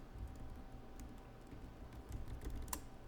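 Typing on a computer keyboard while writing code, a steady patter of quick key clicks over a low background hum, with one sharper keystroke near the end; nobody speaks.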